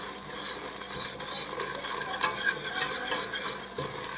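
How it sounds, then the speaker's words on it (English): A flour roux, cooked to brown as a thickener for loaded baked potato soup, bubbles and crackles softly in a pot while it is stirred continuously with close, scraping strokes. "This is a roux right now. See that bubbling?"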